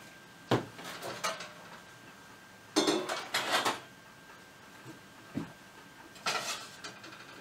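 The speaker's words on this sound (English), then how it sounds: "the only thing I'm going to use right now is a flat pan, so let's set that right there" A flat pan is set down on a kitchen counter while a quesadilla is being prepared, making a few separate metallic clunks and clatters, close by and with no talk.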